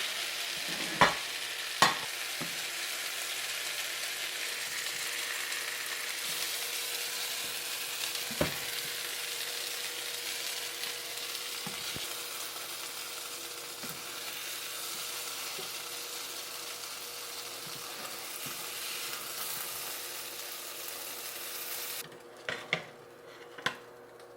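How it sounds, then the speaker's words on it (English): Fish stir-fries in a wok with chili bean sauce, a dense continuous sizzle with occasional utensil knocks and scrapes against the pan, close and steady before the hiss drops away near the end. "this is stir fried fish with chili bean sauce"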